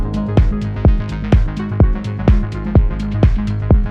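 A punchy, repeating synthesized or instrumental tone with its sustain cut short by Console 1 processing, each hit ending abruptly in a steady pulse.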